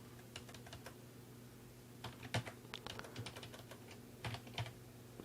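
Someone types HTML code on a computer keyboard: light, irregular key clicks in short flurries with brief pauses, close and moderately quiet over a steady low hum, no talking.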